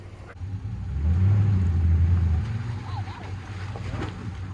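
A Jeep on 37-inch tires revs its engine while pulling a Toyota Tundra out of deep swamp mud, a low rumbling surge that swells and then eases under a steady outdoor hiss.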